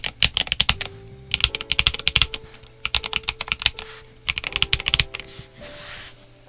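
Typing on a Redragon K631 Pro SE 65% keyboard, with bursts of quick, close keystroke clacks separated by short pauses and an occasional thockier, deeper key hit.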